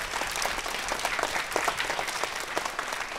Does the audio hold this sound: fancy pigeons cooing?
no